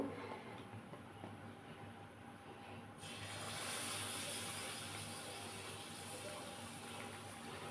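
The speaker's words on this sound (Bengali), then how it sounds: "আমার তেলটা গরম হয়ে গেছে আমি এবার এর মধ্যে ব্যাটারটা দেবো" Malpua batter made with ripe mango drops into hot oil, and a dense, steady hiss swells after a quieter opening and carries on evenly, close and fairly soft, with no one talking.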